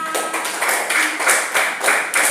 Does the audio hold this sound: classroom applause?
yes